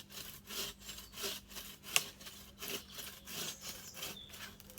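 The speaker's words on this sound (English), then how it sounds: "the best way to start cutting a branch is to undercut it like this" Hand saw cutting into the underside of a wood branch, an undercut, with steady back-and-forth rasping strokes at a moderate pace, close by, with one sharp crack partway through.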